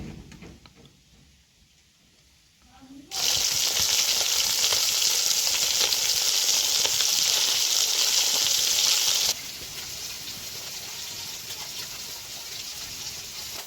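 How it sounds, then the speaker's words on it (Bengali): Fish frying in hot oil: after about three seconds of near quiet, a loud, steady sizzle bursts in and holds, then eases to a slightly softer but continuous crackle for the rest of the clip. "মাছগুলো দেখো অর্ধেকটা ভাজা হয়েছে অর্ধেকটা এখনো ভাজা হচ্ছে"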